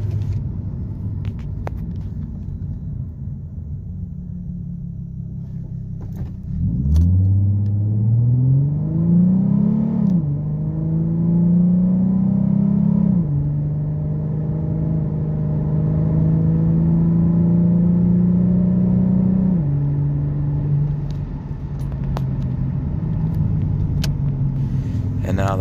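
A Ford Mustang 3.7 V6 with a performance tune revs under heavier throttle in sport mode, the engine note climbing in several rising pulls before settling into a sustained, loud drone up close.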